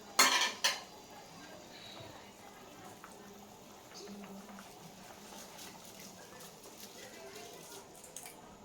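Metal utensils clatter and scrape against a pot as rice goes into boiling water for mutton biryani, with a sharp clank at the start, then softer stirring under a low bubbling, fairly quiet throughout.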